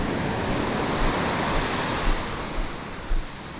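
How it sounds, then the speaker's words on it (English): Ocean waves surging at a shoreline fishing spot, a constant loud wash of surf with wind buffeting the microphone and a few heavier thumps as waves break, no talking. "Get behind these waves out here."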